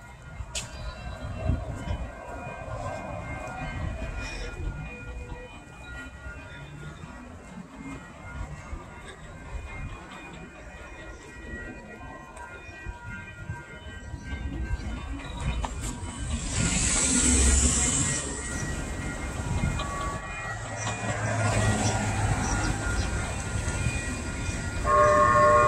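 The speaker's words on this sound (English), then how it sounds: "Ah, we're going to get a train." A train rumbles past at length, a steady, fairly loud roar, with a bright high squeal or whistle partway through.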